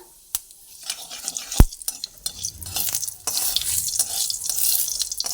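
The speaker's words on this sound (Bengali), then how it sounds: "গোটা সাদা জিরে দিয়ে দিলাম জিরেটা ভাজা হচ্ছে" Whole white cumin seeds fry in white oil, starting with a few sharp clinks and stirring knocks before a soft sizzle builds and holds, close and without speech.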